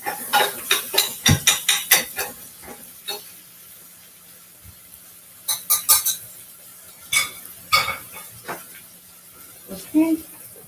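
A utensil stirs food in a cooking pan while preparing a tomato paste dish, making bursts of clinks and scrapes that are uneven and close by, separated by quiet pauses.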